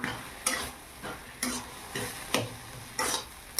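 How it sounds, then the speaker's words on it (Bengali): A spatula stirs a thick curry of spinach, potato, eggplant and beans in a pan, with rhythmic scraping strokes about every half second over a soft, continuous sizzle. "এইভাবে বেশ কিছুক্ষণ নেড়ে চেড়ে এটা আমি কষিয়ে নেব।"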